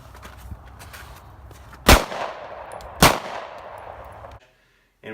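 Two loud gunshots fired into a car, about a second apart, each a sharp crack that rings out over a steady background hiss and then cuts off.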